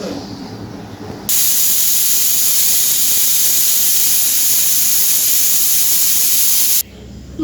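A pressure cooker full of pav bhaji vegetables lets out a loud, steady steam whistle that cuts in abruptly and holds for about five seconds before stopping, with quieter kitchen noise before and after.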